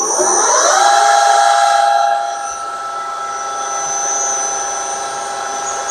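A milling machine with a 4mm cutter whines loudly as it spins up and bites into metal cutting pockets for slide valves, then settles into a steady high-pitched cutting tone.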